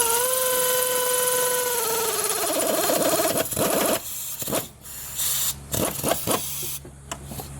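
Power tool whirring on a 2005 Lincoln Navigator with the Triton 5.4L engine during a brake booster repair, driving a bolt into place near the master cylinder; a steady rising whine breaks into short bursts and clicks, close and loud.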